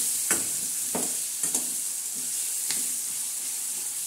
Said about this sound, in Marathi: आता हे आपण चांगलं हलवून घेणार आहोत.